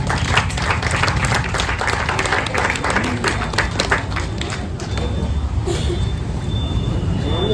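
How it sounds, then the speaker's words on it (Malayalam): Crowd clapping rings out at an outdoor street magic show, a dense rattle of many hands that holds steady throughout with voices mixed in. "കൈയടിക്കണം നിങ്ങളെല്ലാവരും"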